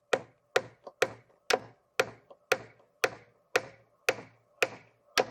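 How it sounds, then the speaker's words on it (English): Eleven sharp, evenly spaced strikes ring out as an old Fiskars axe is used as a hammer to drive a nail into wood at a rotten cabin, each blow close and loud with a short woody ring. "So it's going to be my old Fiskars as a hammer today"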